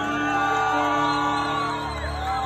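A crowd whoops and cheers loudly for a merengue singer at a show in Villa Altagracia, shouts and yells filling the whole brief moment over a tonal backdrop.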